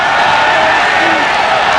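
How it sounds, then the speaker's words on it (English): Dense, loud basketball arena crowd noise at a Crispa-Toyota reunion game, a sustained roar of many voices calling for Sonny Jaworski, continuous and undifferentiated throughout. "crowd is asking for Sonny Jaworski"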